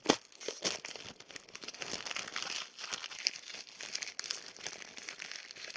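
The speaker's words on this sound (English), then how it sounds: "We'll make some crinkles out of it. It's making some good crinkling sounds" Close, crisp crinkling and crumpling of thin material for ASMR, a continuous irregular rustle with sharp little crackles and occasional tearing-like bursts.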